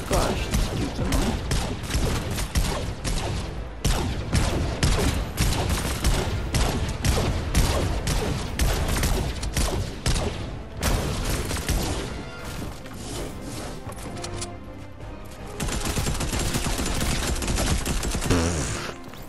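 Rapid bursts of gunfire in the video game Fortnite, loud and dense, with repeated volleys and crashes running nearly the whole time and a brief lull in the middle, while a player talks over the action.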